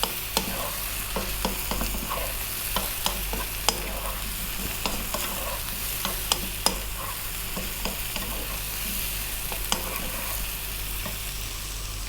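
Curry powder being stirred into a sizzling pan for a potato egg curry, with a steady low frying hiss under repeated sharp spoon taps and scrapes, close up and without speech.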